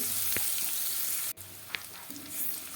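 Onions fry in a pan until browned, making a steady close sizzle with a few brief stirring clicks and one short dip partway through.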